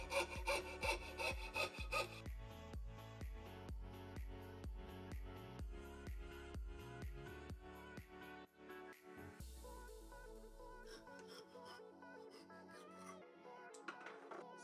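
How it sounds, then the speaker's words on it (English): Coping saw cutting a laminated wooden core for a hammer slingshot, with rapid rhythmic rasping strokes close up, steady at first, then shifting to slower, uneven scraping toward the end. "to cut out the slingshot core, I'm gonna use my coping saw"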